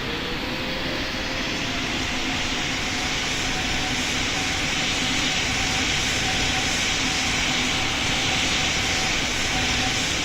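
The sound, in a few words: airliner taking off in the video game PTFS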